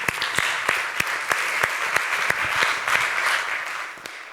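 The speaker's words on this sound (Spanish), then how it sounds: "Un aplauso para María, por favor" Audience applause at a documentary school event in Barcelona, steady dense clapping with a few sharper individual claps standing out, moderately loud and continuous, no talking over it.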